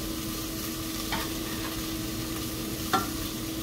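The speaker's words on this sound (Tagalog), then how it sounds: "Habang pinapalupan natin ang bawang" Garlic sautés in a pan for a cauliflower soup, a soft, even sizzle with a steady hum and two brief clinks of a utensil, close and unaccompanied by talk.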